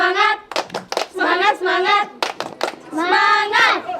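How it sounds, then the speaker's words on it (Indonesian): Children clap hands together in short bursts at a reading corner and ikat weaving house gathering, with lively kids' voices and singing-like chatter over the rhythmic claps. "tepuk tangan untuk di mana Kelompok paling hebat ada di kelompok mendengar"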